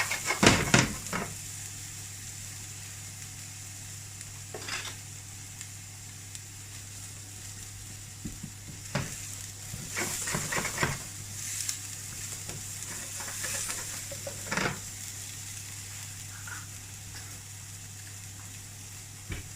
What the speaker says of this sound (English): Nice bit of olive oil. In with your onions.